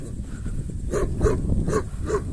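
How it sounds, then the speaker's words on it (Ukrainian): A sheepdog guarding grazing sheep on a mountain slope barks four times in a steady rhythm, fairly close and loud, over light breathing and outdoor background noise. "На нас напав пастух. Там внизу вівці пасуться, він прибіг на нас гавкати."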